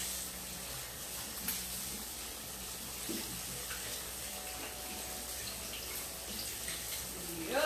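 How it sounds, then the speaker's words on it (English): Hands washed under a running kitchen tap, a steady close rush of water with faint splashing throughout. "wash your hands."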